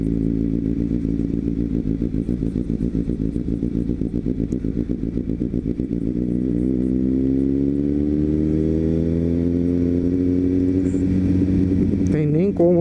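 A Suzuki GSX-S750A motorcycle rides through city traffic in Holambra, its engine droning steadily up close and rising as it revs, with a rider's voice talking over it.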